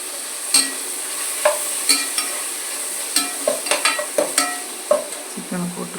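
One kilo of chicken added to a frying tomato curry and stirred: repeated scraping strokes of a spoon against the pot at an uneven rhythm over a continuous sizzle, close and fairly loud, with no talking.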